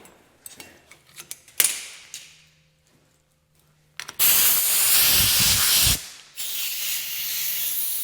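An air hammer profiling tool driven against a steel tube end, loud sustained pneumatic hissing in two long bursts, with clicks and clanks of handling before them.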